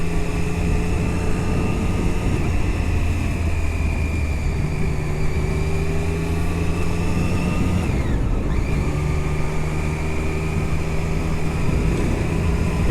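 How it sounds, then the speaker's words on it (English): Motorcycle engine drone and road noise during a ride through Toronto streets toward Yorkville, steady and loud throughout, with a brief swell of passing traffic midway. "it still picks up the sound of the bike"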